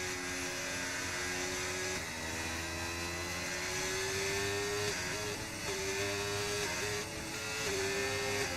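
Continuous buzzing race car engine drone in a sim racing game at Monza, shifting pitch as gears change, steady and fairly close, with no talking.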